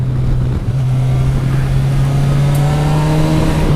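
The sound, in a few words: Kawasaki Versys 1000 SE GT motorcycle engine while riding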